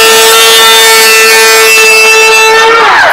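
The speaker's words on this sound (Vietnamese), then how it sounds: "Cái máy bào nó là như thế này." A DeWalt electric power planer runs with a loud, steady, high-pitched motor whine, then spins down in falling pitch at the end.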